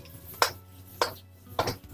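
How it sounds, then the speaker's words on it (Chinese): Pork tripe is tossed in a wok with bean paste and hotpot base, three sharp metallic scrapes of the spatula against the wok at a steady pace over a low background hum. "快速的给它翻炒均匀"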